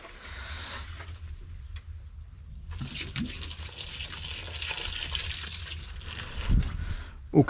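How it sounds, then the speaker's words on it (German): Water pouring steadily from a large watering can in a garden in February, a continuous splashing wash that starts a few seconds in and runs on, fairly close. "Dann nehme ich aber diesmal die große Gießkanne."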